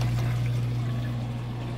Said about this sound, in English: Got the drain pumping that water out nice and fast.